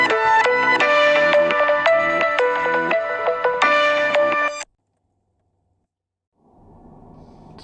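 A phone ringtone plays during a live snowplowing stream, a loud, close, repeating melodic chime of bright tones that stops abruptly, followed by silence and then a faint low hum.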